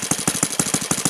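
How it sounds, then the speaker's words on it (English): Saito FG30 four-stroke model engine with CH ignition conversion idling at a low speed, a rapid, even, slightly uneven-popping firing rhythm, close and loud with no talk. "It idles around"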